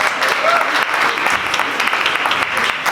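An audience at a Spanish-language science talk claps for a computational engineer just introduced; steady, fairly loud applause from many hands, with a brief faint whistle-like tone early on.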